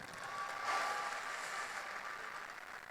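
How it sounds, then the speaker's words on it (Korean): Audience applause at a Korean party presidential primary rally in Seoul and Incheon, a steady wash of clapping that holds fairly level for the whole stretch, moderately loud, with faint tonal feedback and murmur underneath. "우리 정대철 상임고문님 다시 한번 뜨거운 격려의 박수 부탁드립니다"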